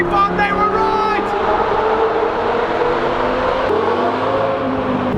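An Audi R8 sports car accelerates hard, its engine note climbing steadily through a rising, whirring roar heard from inside the car for the whole stretch, with no one talking.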